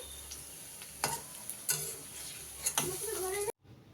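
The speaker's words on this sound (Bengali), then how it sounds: "এখন এই যে মুড়ি খাওয়ার জন্য পেঁয়াজি ভেজে নিচ্ছি" Onion fritters (peyaji) frying in a pan, with a soft continuous sizzle broken by several clattering scrapes and taps of a utensil before the sound cuts off abruptly.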